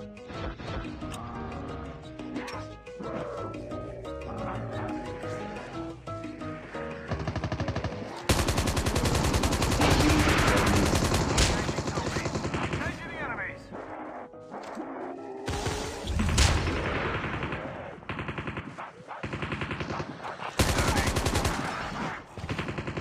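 Rapid automatic gunfire bursts and single shots in a Call of Duty Mobile battle royale match, loud and dense over game music, with short pauses between volleys and brief game voice callouts.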